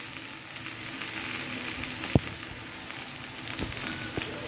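Vegetables frying in a pan with ground cumin and coriander, a fairly quiet continuous sizzle broken by occasional scraping taps of a stirring spoon, with no talking.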